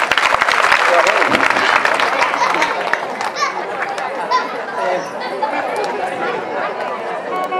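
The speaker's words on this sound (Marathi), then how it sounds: "एक त्यांच्याकरता जोरदार टाळ्या वाजवायच्या" Audience applause for the performers of a devotional tableau at a Shiv Purana katha gathering: dense, sustained clapping mixed with crowd chatter, loudest at the start and then holding steady.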